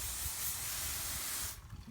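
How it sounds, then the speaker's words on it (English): A steady, loud hiss of water spraying from a hose to rinse blood off a slaughtered pig, continuous for most of the moment before cutting off abruptly. "Let's spray the blood off."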